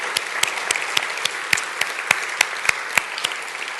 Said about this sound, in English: So a round of applause for Okwe and his team and the Biennale.